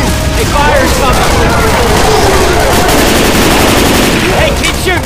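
Rapid, dense gunfire rattles nonstop in a Left 4 Dead 2 survival match on the Swamp Fever plantation map, loud and continuous with voices shouting underneath.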